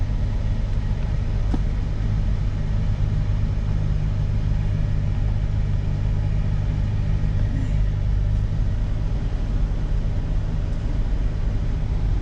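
The cabin blower fan of a 2003 Dodge Grand Caravan runs at full speed, a steady, even whooshing hum with a low rumble underneath, unchanging throughout and heard from inside the van.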